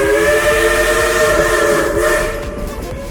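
A steam train's whistle sounds at Dollywood in Pigeon Forge, Tennessee, a loud sustained multi-tone blast with hissing steam beneath, fading slightly toward the end.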